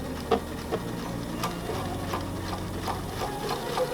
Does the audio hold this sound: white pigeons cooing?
no